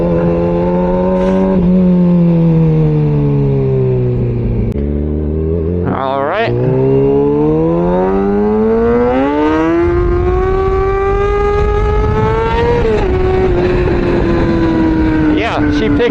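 Kawasaki ZX6R motorcycle engine revving hard and climbing through several gears, pitch rising steadily with a few sharp drops at each shift, loud and close with a brief spoken word early on.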